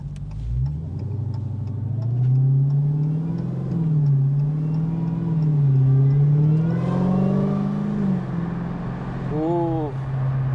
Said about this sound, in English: All the Dodge Performance superchargers have that same unique whine.